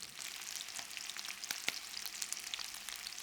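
Steak searing in a hot pan, a steady close crackling sizzle with scattered sharper pops, alone without voices.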